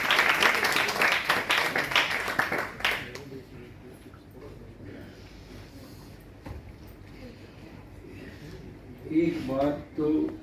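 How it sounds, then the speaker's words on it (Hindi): Audience applause at a poem recitation competition: dense, loud clapping for about three seconds, then it breaks off into a quieter room with voices talking. "एक बार जोरदार तालियां।"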